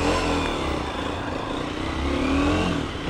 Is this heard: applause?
no